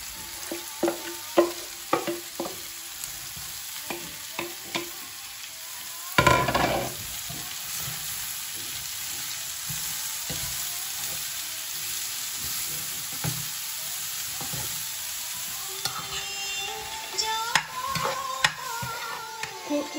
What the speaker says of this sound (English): Now I'm gonna add courgette.